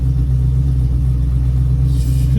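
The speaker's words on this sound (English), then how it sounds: "I got an LQ9 engine that's been stroked" Stroked LQ9 V8 in a 600 hp Chevelle running steadily, a loud continuous low rumble that holds even throughout with no clear revving.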